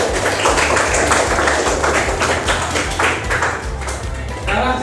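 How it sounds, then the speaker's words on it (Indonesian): Classroom applause for a student group during a teaching practice session: dense, sustained clapping from many hands, loud and close, with voices mixed in throughout. "Beri tepuk tangan buat kelompok 1."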